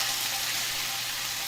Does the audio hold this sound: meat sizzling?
yes